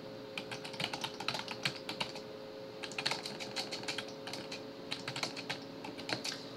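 Steady, rapid keystrokes on a computer keyboard while code is entered in the VS Code editor, close and fairly quiet over a faint background hum, with no talking.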